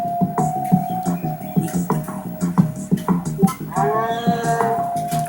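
A cow in the Harvest Moon: A Wonderful Life video game lets out a drawn-out, clear moo against a steady rhythmic game-music background, with no talk.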